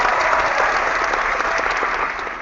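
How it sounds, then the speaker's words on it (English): A studio audience at a comedy show claps and cheers in a dense, steady burst of applause that fades slightly toward the end. "They just cheer us all on."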